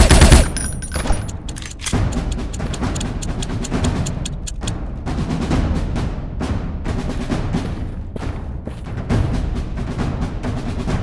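Rapid gunfire crackles in the Critical Gun Strike mobile shooting game, dense continuous shots and booms at close, loud level with no speech.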